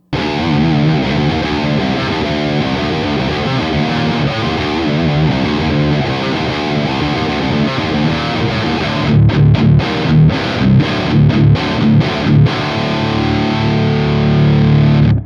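Heavily distorted electric guitar through a Revv G20 amp pedal plays a continuous sustained riff, loud and close, ending with a run of tight, rhythmic palm-muted chugs.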